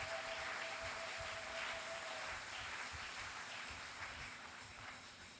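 A church congregation at a night worship gathering applauds loudly, a dense, continuous wash of clapping that stays full throughout and eases slightly toward the end.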